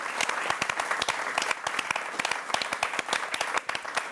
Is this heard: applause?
yes